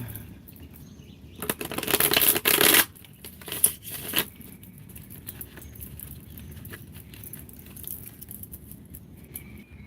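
Crisp riffling and flapping of tarot cards in a burst of a second or so, followed by a few softer shuffles and quiet handling.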